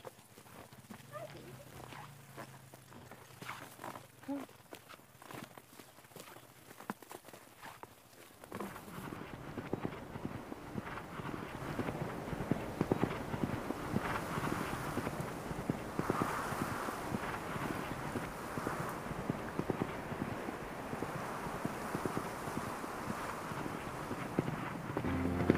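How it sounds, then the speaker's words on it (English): Horse hooves clip-clop at a steady walking pace during a ride through open country, soft and fairly distant under steady wind buffeting the microphone, which grows louder after the first few seconds. "I love riding horses"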